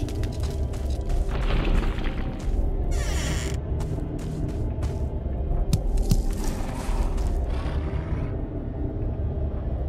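Deep booming rumbles and low growls echo through a burial chamber dungeon in the game Valheim, attributed to a troll, with several distant thuds and a sustained heavy hum throughout.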